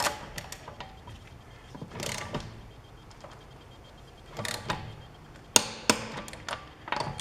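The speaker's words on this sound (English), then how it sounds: "I got the torque wrench set at 103 foot-pounds." A torque wrench set to 103 foot-pounds tightens the wheel lug nuts on a Chevy Trax during a front brake job, with ratcheting clicks and sharp metallic clacks that come in bursts near the end, close up and loud.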